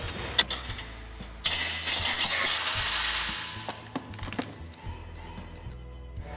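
Holding bolts are tightened into threaded inserts in the legs of a manual retractable seating system, with a ratcheting, clicking mechanical sound that runs steadily and is broken by sharp taps and knocks, close and fairly loud.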